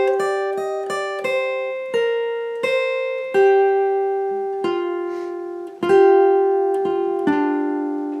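A guitar picks a Hytale melody note by note, with a few downward strums, every note left ringing into the next in a bright, steady, unaccompanied line.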